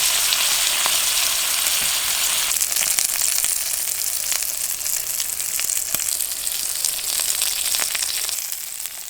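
Duck skin fries skin-side down in a pan as its fat renders, giving a steady, dense sizzle with a few crackles and pops that carries on loud and unbroken throughout, with no talking.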